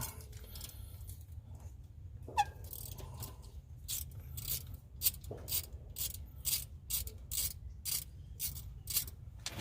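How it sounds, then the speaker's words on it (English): Wrench working loose the bolts holding down a carburetor, a run of sharp metallic ratcheting clicks growing more regular toward the end, close up over a low background hum. "let me get a wrench and we'll start pulling this carburetor off"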